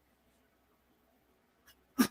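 A single short, sharp human sneeze comes at the very end, preceded by a brief intake of breath, after near-silence; it is close and fairly loud.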